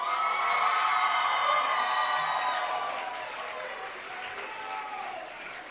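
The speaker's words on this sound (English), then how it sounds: "Big round of applause!" High school graduation crowd applauding and cheering, loud sustained clapping with shouts and whoops from many voices, easing slightly in the second half.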